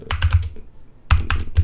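Quick bursts of computer keyboard typing as a login username is entered, two clusters of crisp key clicks separated by a short pause, close and clear with no speech.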